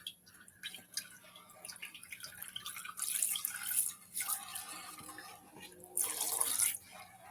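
Water splashing and draining as a gold pan of Klondike paydirt is rinsed into a catch pan, with bursts of pouring and trickling broken by drips and short pauses, close and fairly loud.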